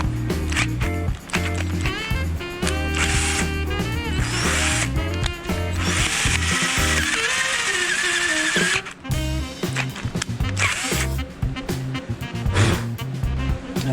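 A battery power drill bores through an exhaust manifold in a garage, its steady motor whine running loud and close with brief pauses and bursts as the bit bites into the metal.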